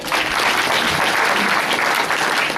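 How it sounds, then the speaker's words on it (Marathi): Audience applause at an NSS camp gathering in Nimgaon Ghana, a dense, steady roar of many hands clapping together, loud and sustained throughout with no talk over it. "टाळ्या वाजवूयात."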